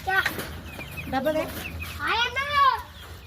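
Chickens in a shed cluck and squawk in several close bursts, with rising and falling calls overlapping a low background murmur.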